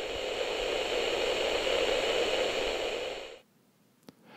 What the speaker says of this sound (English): Natural sunlight, candles, or lights powered with DC will only create a low-level hissing sound.